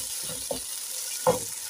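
Onions frying in a pan being stirred, a steady sizzle underneath with two brief scraping strokes of the spoon, close and moderately quiet.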